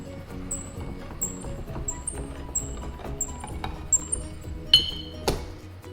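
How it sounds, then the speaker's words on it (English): Light metallic clicks tick along at a steady pace as a can opener turns on a 28-ounce can of crushed tomatoes, ending with a couple of sharper clanks as the lid comes free. "So first, we'll open up the tomatoes"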